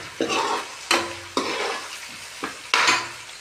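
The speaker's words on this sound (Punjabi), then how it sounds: "ਇਹ ਆਪਣਾ ਪਿਆਜ਼ ਜਲਦੀ ਭੁੱਜ ਜਾਂਦਾ" Onions fry in a pan for kadhi while a spoon stirs them: several sharp, close scraping strokes come in bursts over a steady sizzle, with no voices.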